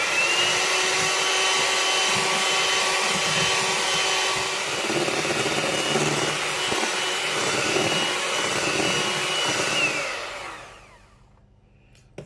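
An electric mixer whisks frothy eggs with sugar for castella cake, a steady loud whirring drone that runs continuously for about ten seconds before winding down and stopping, with no talking.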